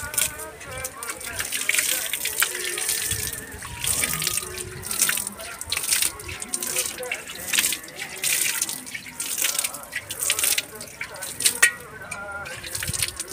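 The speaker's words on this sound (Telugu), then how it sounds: "నువ్వు నీళ్ళు పడుతున్నావు కదా" Water poured onto soil in a home vegetable garden of gongura and fenugreek, a steady splashing hiss with scattered drips, continuing for several seconds at close range.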